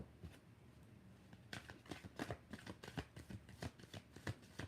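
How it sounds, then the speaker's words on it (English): A tarot card deck is shuffled by hand, a run of close, crisp riffling bursts in an uneven rhythm, starting quietly and growing busier, with no voices. "I always be liking to shuffle like this with this deck"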